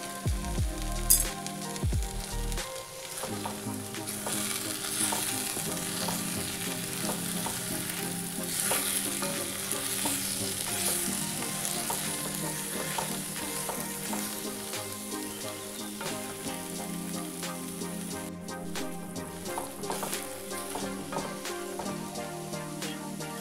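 Taro leaves with tamarind pulp and jaggery fry in a pan while being stirred, a continuous close sizzle broken by scraping and stirring strokes, with no voices.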